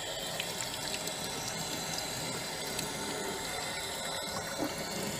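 Tap water runs over a lotus leaf to wash off coal dust, making a steady, close splashing rush that holds evenly throughout with no talk over it.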